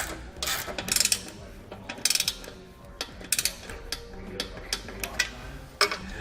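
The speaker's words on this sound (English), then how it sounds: "to tighten them down, we'll use a 16mm socket and a 17mm wrench" A 16mm socket ratchet tightens bolts on a Yakima EasyRider Double Decker trailer, giving quick bursts of clicking, pawl ratcheting in short, uneven strokes, close and clear.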